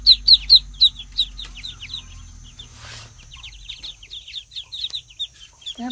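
A cluster of Muscovy ducklings peeps rapidly in high, thin chirps, close and busy, over a low steady hum.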